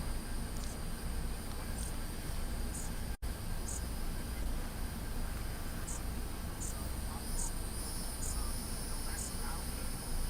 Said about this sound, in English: I don't know if you can Well- hear him or not, but he sounds like a cricket.